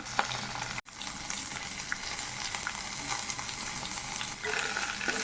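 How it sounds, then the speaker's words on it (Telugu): Raw chana dal fries with green chillies in hot oil, giving a steady, close crackling sizzle with light stirring scrapes, briefly cut off by a short silent gap near the start. "కొంచెం మిర్చి వేగిన తర్వాత ఒక రెండు గుప్పెళ్ళు శనగపప్పు వేస్తున్నానండి పచ్చి శనగపప్పు"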